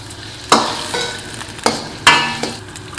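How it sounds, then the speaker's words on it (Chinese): Thin-sliced pork stir-frying in a hot wok, with a constant sizzle broken by three or four sharp clanks of the spatula against the metal, loud and close, with no speech. "猪肉炒干香，放所有的香料，放入鸡杂"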